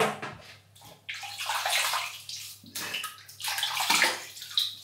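Running water at a bathroom sink, splashed and scooped in repeated bursts while a face is wetted before shaving, with close sloshing and gurgling over a steady tap flow.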